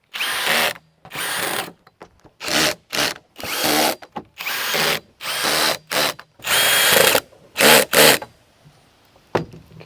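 A power drill drives screws into a KidKraft wooden play set during assembly, with loud close whirring bursts of several seconds each, separated by short pauses and ending in a few quick pulses.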